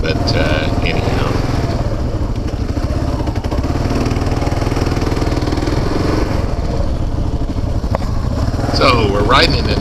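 KLR650 and DR650 dual sport motorcycles ride through the Nestucca off-road area in Oregon, their engines droning loudly and continuously with rough, pulsing rumble and wind buffeting throughout.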